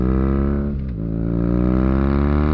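Exhaust note of an early R90 BMW boxer-engine motorcycle, a steady harmonic-rich drone that dips briefly near the start, then holds a loud idle-like rumble without any talk.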